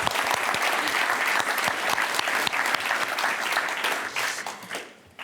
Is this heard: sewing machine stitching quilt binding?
no